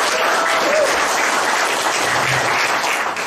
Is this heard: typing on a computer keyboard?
no